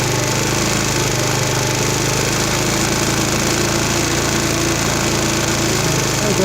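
A Chinese 4-stroke scooter engine (139QMB/GY6 type) runs continuously during carburettor tuning, a loud, buzzing small-engine drone whose revs hold steady with a slight rise toward the end.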